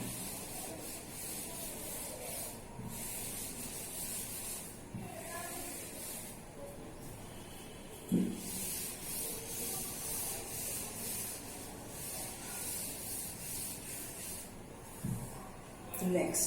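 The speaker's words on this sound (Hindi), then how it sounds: "नेक्स्ट इसको रब कर देते हैं।" A board being wiped clean with an eraser during a primary-school maths lesson, giving a steady soft rubbing and scrubbing under faint room noise, with a few small knocks and a voice in the background.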